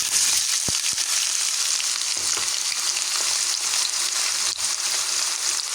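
Onion drops into hot oil with mustard seeds and sizzles loudly and steadily, with a few sharp pops and clicks from the pan.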